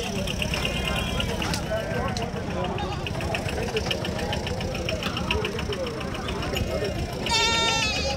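Goats and sheep bleat at the Angallu livestock market, their wavering cries rising over constant crowd chatter and a low idling engine, with one louder bleat near the end.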